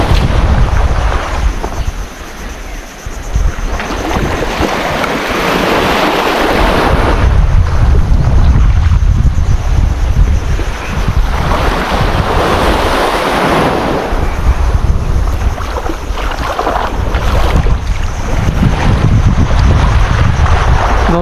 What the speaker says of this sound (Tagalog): Medyo mahangin eh.